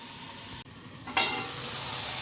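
Okra frying in a pan for bhindi masala, a soft steady sizzle broken by a brief stirring scrape, after which the frying swells a little louder and keeps going.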